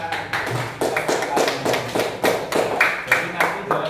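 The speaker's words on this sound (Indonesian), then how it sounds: "tepuk tangan." Fifth-grade classroom applause, pupils clapping together in a clear steady rhythm of evenly spaced claps, close and lively, with a few voices underneath.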